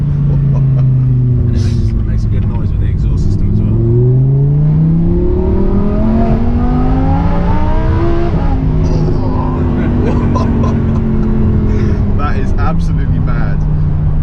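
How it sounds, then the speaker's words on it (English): A Lamborghini Huracan's engine revs up and down with a loud exhaust note, heard close from inside the car during a ride, with people talking over it throughout. "And it makes a good noise with the exhaust system as well."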